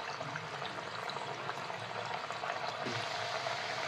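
Mung dal chakli spirals sizzle in hot oil in a kadhai over low flame, a faint, steady bubbling hiss that continues without pause and with no voices.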